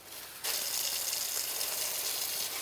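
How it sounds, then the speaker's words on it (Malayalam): Water gushes from a tap into a bucket being filled for mop cleaning, starting abruptly after a brief low hiss and then pouring steadily and loudly. "ഇനി ചെയ്യേണ്ടത് കുറച്ച് വെള്ളം കൂടി ഒഴിച്ചിട്ട്"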